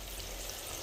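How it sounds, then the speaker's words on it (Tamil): Onion, green chili, tomato and brinjal sauté in a pan with a dense, continuous sizzle, close and even throughout the short moment. "வெங்காயம் பச்சை மிளகா தக்காளி கத்திரிக்காய்லாம் வதங்கி வந்துருச்சு"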